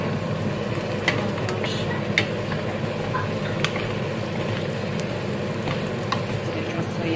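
Pumpkin sizzles in a pot with onion and garlic, a continuous frying hiss broken by a few sharp stirring clicks, steady and close, with no talk over it.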